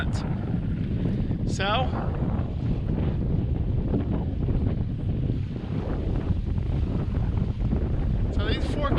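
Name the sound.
wind of 10 to 12 knots while sailing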